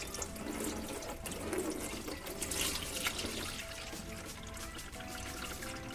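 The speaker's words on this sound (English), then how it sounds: "Oh, that's a little splashy. Oh man, that transmission fluid was not the cleanest." Transmission fluid draining from a Honda pours steadily and splashily for the whole stretch, a close, continuous liquid gush with no talking.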